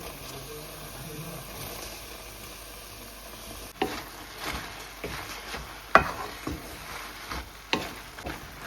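Tomatoes frying in a pan as rice is added, a low steady sizzle that turns into uneven scraping and stirring strokes with a few sharp knocks of the spoon against the pan.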